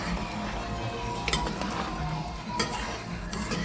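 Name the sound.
stirring rice in a pot for chicken pelau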